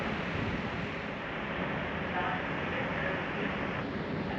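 Broadband rushing and sloshing of water surrounds a ferry leaving port, heard as a continuous moderate wash with a steady low rumble underneath.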